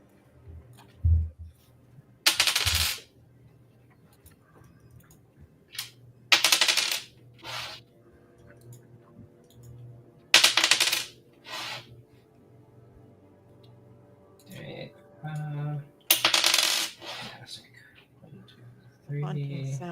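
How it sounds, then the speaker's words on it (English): Dice roll during a tabletop role-playing game session, with several sharp clattering rattles spaced across the stretch and quiet background murmuring between them. "Haunting sound of dice rolls"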